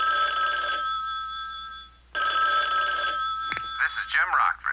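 A telephone rings nearby in two long, steady electronic trills with a brief pause between them, and a voice comes in over the end of the second ring.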